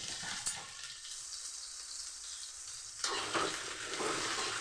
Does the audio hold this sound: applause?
no